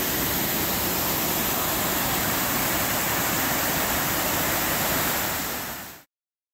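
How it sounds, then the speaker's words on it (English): Madcap Falls, a waterfall above a swimming hole at Mount Rainier, pours in a steady, loud, broadband rush that fills the whole recording with no voices, then cuts off abruptly near the end. "Madcap Falls. Pretty cool swimming hole right there."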